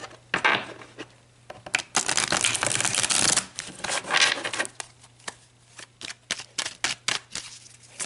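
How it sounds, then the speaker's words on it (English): A deck of tarot cards is shuffled by hand: bursts of riffling and sliding cards, then a run of crisp, separate taps and flicks as the deck is squared, close and clear with no talk. "I just want to give these a shuffle since we pulled a lot of cards."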